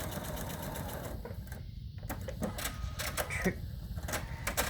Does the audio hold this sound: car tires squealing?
no